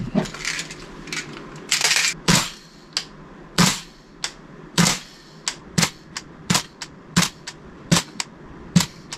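A gas blowback airsoft rifle replica fires a string of about fifteen sharp, loud cracks, each with a short metallic clack, spaced irregularly and coming a little quicker toward the end.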